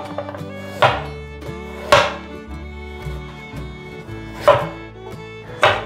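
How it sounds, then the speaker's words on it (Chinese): A knife slices a carrot on a cutting board, giving four sharp, separate thwacks spaced irregularly over a few seconds against soft background music. "把红萝卜切下来，"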